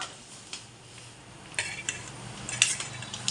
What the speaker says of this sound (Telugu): పల్లీలు వేయించుకుంటున్నానండి